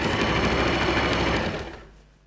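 A sewing machine stitching a seam on a cape, running loud and steady at close range for about two seconds before slowing and stopping.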